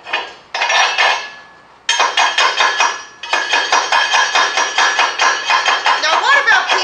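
A chipping hammer knocks slag off a weld bead from an AHP AlphaTIG 200X 200-amp welder. Close, bright metallic taps come in rapid bursts of repeated strikes, separated by brief pauses.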